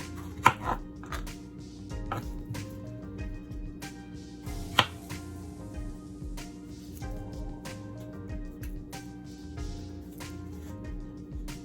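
Knife slicing plantain on a cutting board, a few sharp chopping taps near the start and one more around midway, set against a steady low background hum.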